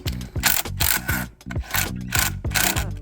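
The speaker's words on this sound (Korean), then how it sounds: "오른쪽에 있는 엔진 가드를 장착하기 전에 먼저 이 냉각수 통 볼트 4개를 풀어줘야 됩니다." A hex wrench loosens the hex bolts on a coolant tank during a motorcycle engine guard install, a close, steady run of rapid ratcheting clicks and grinding metal turns with brief pauses between strokes.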